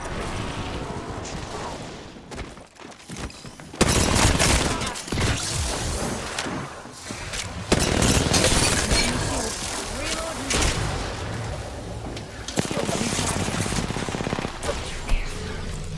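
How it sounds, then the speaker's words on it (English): Gunfire in the Apex Legends video game, with sustained loud bursts of automatic fire, a brief lull, then renewed heavy volleys and mechanical clanks, while a voice talks intermittently. "Being shot at."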